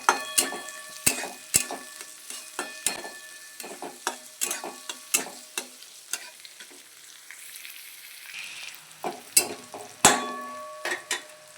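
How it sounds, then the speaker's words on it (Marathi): Chopped onion fries in oil in a kadhai with a steady sizzle, broken up by repeated sharp scrapes and clinks of a ladle stirring against the pan, close and with no voices. "कांदा आहे तो तेलामध्ये छान आपल्याला परतून घ्यायचा आहे इथे"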